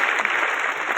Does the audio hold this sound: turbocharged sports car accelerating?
no